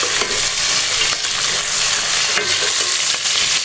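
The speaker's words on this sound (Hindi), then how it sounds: "प्याज में चीज़ें डाल दिए टमाटर और मिर्ची फ्राई होते हैं" Onions, chopped tomatoes and green chillies frying in a pan for a ridge gourd dish, a steady close hiss and sizzle with occasional stirring scrapes.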